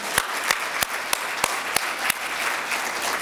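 Applause from a conference audience at a women's empowerment event, a steady wash of many hands with a few sharp, louder claps standing out near the microphone at a regular pace, with no talk over it.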